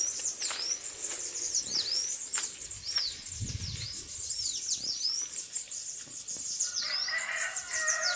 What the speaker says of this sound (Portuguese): Olha, gente, o barulho dos passarinhos.